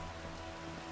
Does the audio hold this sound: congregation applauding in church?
no